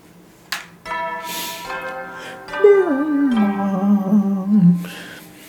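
A two-tone morning announcement chime from the video game The Hundred Line Defense Academy, ringing out as a descending sequence of bright bell-like tones. It sounds clear and near, with no speech.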